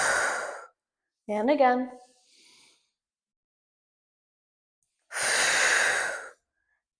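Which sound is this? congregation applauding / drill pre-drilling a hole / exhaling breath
exhaling breath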